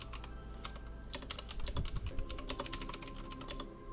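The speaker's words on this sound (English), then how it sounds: "And what you need to do is you need to type." Fast, steady typing on a computer keyboard while entering terminal commands, a dense run of close, crisp key clicks with a slight hum underneath and no voices.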